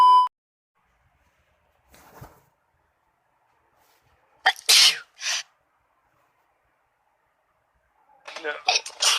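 Two sharp, loud sneezes in quick succession amid near silence, bracketed by short bursts of speech-like voice.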